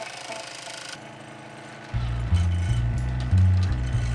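A scroll saw cuts a wooden piece for a golden Lego Ninjago sword. A loud, steady motor hum starts partway through and runs to the end, swelling briefly near the close.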